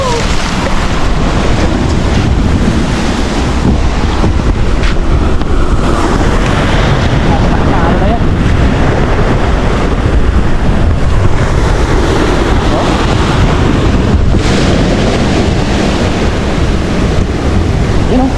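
Loud, continuous surf and breaking waves with heavy wind buffeting the microphone, steady throughout with no clear pauses.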